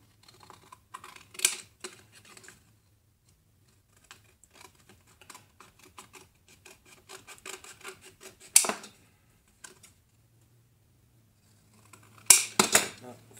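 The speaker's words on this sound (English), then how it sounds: "Take your scissor and cut that out." Scissors snip out a piece of a model RV's roof, giving quiet, intermittent close cuts with a few sharper bursts of snipping and long near-silent gaps.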